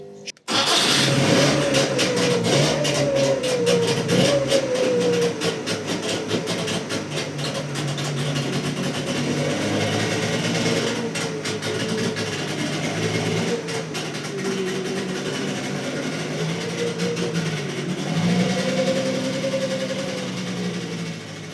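A Trabant car engine runs steadily and close by, with a buzzy, rattling idle and a few brief revs across the whole stretch.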